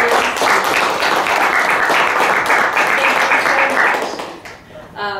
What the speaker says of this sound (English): I would like to really give a round of applause to our panelists.